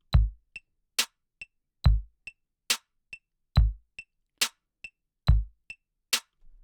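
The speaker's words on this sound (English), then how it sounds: "So we have the kick on 1 and the snare on beat 3." Programmed drum beat built in Soundtrap, with a deep kick on beat 1 and a snare on beat 3 alternating over a looping pattern, plus light ticking clicks between them, dry and alone without talk.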